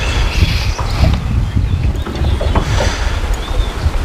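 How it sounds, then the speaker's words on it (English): Wind gusting outdoors beside a stream in warm weather, a steady low rumble of buffeting across the mic with rushing noise throughout, continuous and fairly loud. "We got some good wind blowing today."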